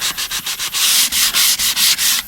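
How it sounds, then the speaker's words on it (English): Folded leftover sandpaper rubbed by hand inside a routed edge on the back of a wooden piece, quick rhythmic back-and-forth strokes, loud and close with no voice. "I always take a leftover piece of sandpaper, double it over, sand the inside of my route there"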